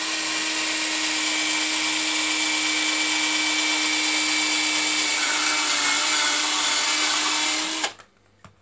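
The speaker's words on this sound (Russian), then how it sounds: "тем же самым сверлом сверлим здесь отверстие" A power drill whines steadily at high speed for several seconds drilling a hole while making a jewelry stand, loud and close, then suddenly stops into near silence.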